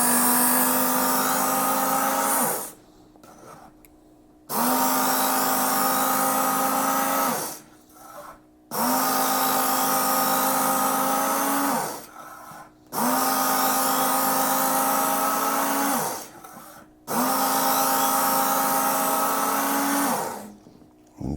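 A dull knife drawn through a sharpener in five long, even passes, each a loud, close grinding rasp of about two to three seconds, separated by short pauses.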